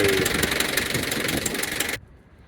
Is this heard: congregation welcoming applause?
no